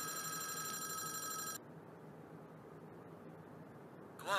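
A telephone rings in Five Nights at Wario's, a horror video game set in a cursed factory. One loud electronic ring lasts about a second and a half, then stops, leaving a low hiss. A brief tone returns at the end.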